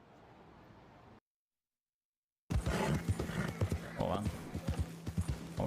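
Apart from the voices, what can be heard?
horse hooves clip-clopping in video game DOOM: The Dark Ages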